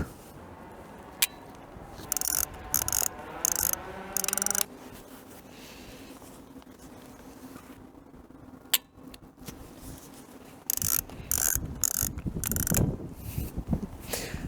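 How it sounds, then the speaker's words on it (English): Several small mechanical clicks and ratcheting winds from a disposable camera's shutter and film advance, fairly faint and close, separated by quiet gaps. "Shutter sound is very funny."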